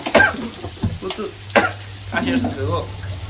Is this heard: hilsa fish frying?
yes